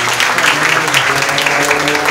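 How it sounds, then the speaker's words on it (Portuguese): Church congregation at a youth worship service applauding, a dense, steady burst of clapping from many hands filling the room for a couple of seconds. "Você pode aplaudir o Senhor nessa noite?"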